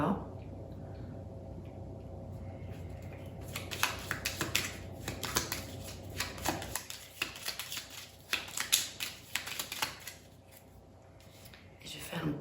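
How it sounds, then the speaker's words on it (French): Tarot cards are laid out and shuffled on a table, giving quiet, close, irregular flurries of papery snaps and taps over a faint steady hum. "donc je vais mettre les cartes au milieu"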